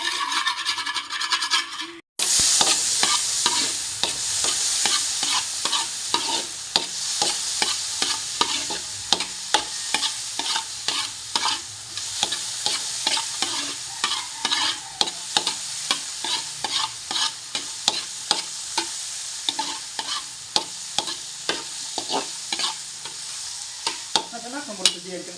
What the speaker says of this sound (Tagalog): So, magigisa na po tayo.